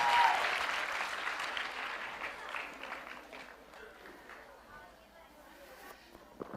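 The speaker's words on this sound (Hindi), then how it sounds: "तालियां बजाइए आपके लिए" Quiz-show audience applauding a guest singer, a loud burst of clapping at the start that fades over several seconds while a voice talks over it.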